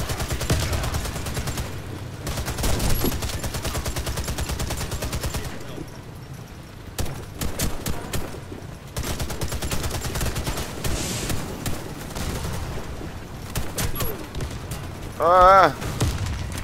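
Sustained gunfire in the video game Warface, dense rapid automatic bursts and booms filling the scene nearly continuously, with a brief pause midway and a short voice near the end.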